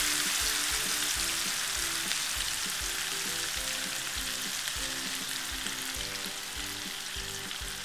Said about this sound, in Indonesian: kita goreng sampai matang.